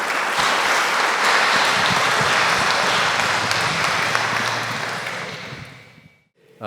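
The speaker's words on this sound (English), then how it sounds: "Another round of applause, please, for Adam and Richard." A seated audience at an evening talk on Islamic arts and crafts gives a sustained round of dense clapping that holds steady, then thins and fades out near the end.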